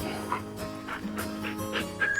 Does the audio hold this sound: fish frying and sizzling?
no